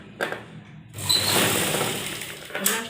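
A domestic sewing machine stitches a fabric strip onto a nighty neckline, running in one steady whirring burst of about a second and a half after a brief quiet start.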